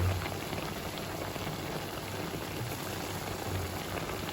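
White termite mushrooms simmering in a pan with oyster sauce, a soft continuous bubbling sizzle, faint and steady with no talking.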